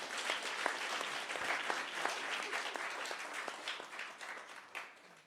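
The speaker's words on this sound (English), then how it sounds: "let's give them another big round of applause." Sustained applause from an audience at a conversation event, many hands clapping densely and steadily for about five seconds, with a few sharper claps standing out before it tapers near the end.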